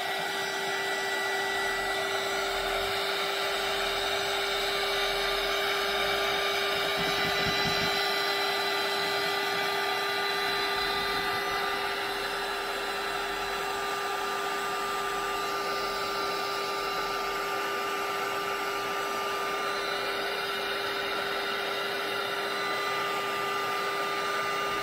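A hair dryer or heat tool runs steadily and loudly for the whole stretch while it dries a bookmark made for breast-cancer awareness month, with a constant whir, a tonal hum and no talk.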